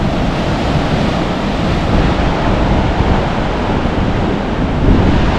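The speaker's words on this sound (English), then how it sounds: "a little bit of waves." Ocean surf rolling in at Luffenholtz on the Humboldt coast of California on a clear day, a steady broad wash of breaking waves with wind buffeting the microphone throughout.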